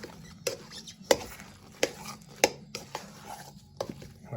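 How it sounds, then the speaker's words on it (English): Oliebollen (Dutch doughnut) dough being mixed by hand in a bowl, giving soft, regular knocks and squelches roughly every half second over a quiet background, with no talking. "So we're just going to mix it all up really good."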